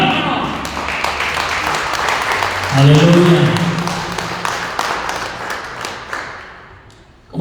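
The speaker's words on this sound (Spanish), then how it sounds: "Denle un aplauso al Señor, hermano." A church congregation at a Sunday sermon claps in a steady patter of hand claps that carries through the whole stretch, while a preacher's voice calls out and speaks over it.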